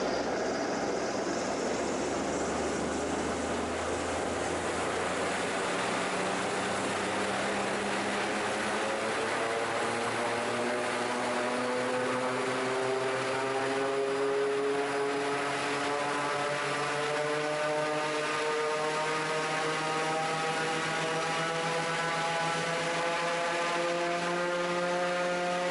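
A Raptor prototype engine revs steadily upward toward its governor speed of about 3,500 RPM, a loud, continuous droning roar whose pitch climbs throughout.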